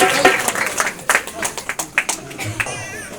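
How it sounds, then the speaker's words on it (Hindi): Seated villagers clap to welcome honoured guests during a gathering in a church, irregular clapping that thins toward the end while people talk over it. "इस ग्राम सभा के तालियों से आप लोग स्वागत करें"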